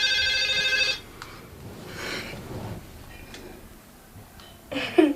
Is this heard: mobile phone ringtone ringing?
yes